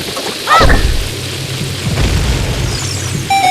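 A bomb explodes against a rock in a Legend of Zelda game, giving a single deep booming blast with a rumbling tail, followed by a short bright chime near the end.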